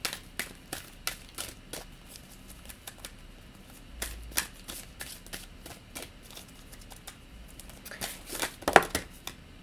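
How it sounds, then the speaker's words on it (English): Fairy oracle cards are shuffled by hand in quick, crisp riffles and flicks, a long run of sharp close snaps repeating irregularly, with a brief low thump partway through and no talking. "Let's pull another fairy card for you guys."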